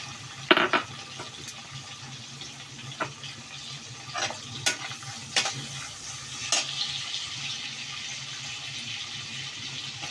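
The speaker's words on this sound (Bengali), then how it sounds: "পেঁয়াজ কুচি দিয়ে দিলাম" Chopped onion hits hot oil tempered with bay leaf, nigella seeds and dried chilies, giving a soft steady sizzle broken by several sharp spatters and stirring clinks, close up with no talk.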